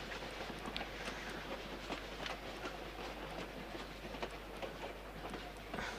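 Continuous rumble and rhythmic clatter of a train rolling along tracks in Tomb Raider IV: The Last Revelation, steady and moderately loud with clicking accents and no speech.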